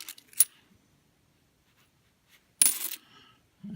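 Coins clatter out of a bank coin-counting machine in two bursts: a brief rattle, then a longer metallic cascade after a pause, close and fairly loud.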